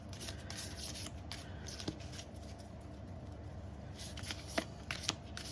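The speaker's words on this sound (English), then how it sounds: "we're going to draw a couple more tarot cards just to finish off." Tarot cards are shuffled and drawn, producing continuous soft papery riffling with a few sharper snaps, close up over a steady low background hum.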